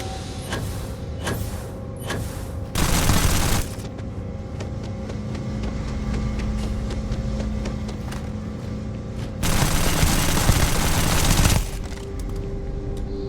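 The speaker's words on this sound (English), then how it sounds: "I hit him with a shotgun" Shotgun blasts in the space game Starfield, loud bursts of firing standing out over a steady droning game background, with a pause of several seconds between them and no voices.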